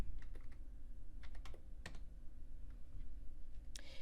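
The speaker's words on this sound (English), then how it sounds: "You'll simply type your user ID here and your password." Keystrokes on a computer keyboard while entering a user ID and password, sparse irregular clicks and short bursts of taps over a steady low room hum, close and fairly quiet, with no voices.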